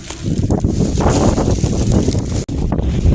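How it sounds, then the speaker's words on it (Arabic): Strong, steady wind buffets the microphone in a constant low roar outdoors in Constantine, Algeria, with one brief dropout near the end. "شو الريح قديش"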